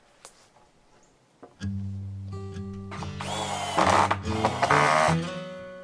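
A power drill drives screws to fasten a warped 2x6 board on a lean-to storage shed. The motor whines up in steady pitched tones, then grinds louder under load as each screw bites into the wood, close and without speech.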